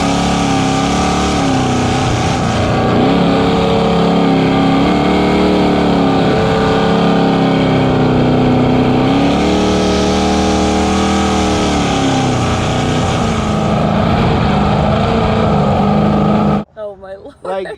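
A jet boat engine with a 9-inch pump roars loudly at throttle, rising and falling in pitch as it surges, then cuts off abruptly near the end.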